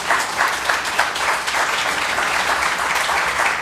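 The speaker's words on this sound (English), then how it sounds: "Another round of applause for her," Audience applause at a plenary session on climate change, a full, steady roar of many hands clapping throughout, with no speech over it.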